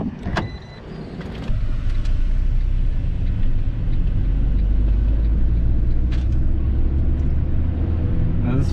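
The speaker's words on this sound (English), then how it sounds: "500, my wife's car for practicing stick shift." A Fiat 500 with a manual transmission driving, opening with a few clicks and knocks before a steady low engine and road rumble settles in and holds, loud and close from inside the car.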